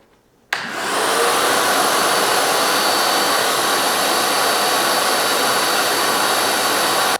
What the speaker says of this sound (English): All right, let's try it with the muffler.